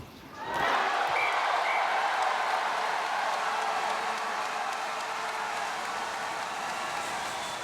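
A French crowd at a Paralympic match in Paris erupts in cheers and applause after a goal, the roar rising sharply then holding loud and sustained before easing slightly.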